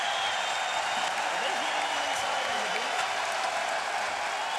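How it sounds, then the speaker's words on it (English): A UFC crowd in Boston roars steadily through a Conor McGregor versus Max Holloway bout, a dense, continuous wall of cheering and applause with no clear breaks. "So the crowd responding here down the stretch."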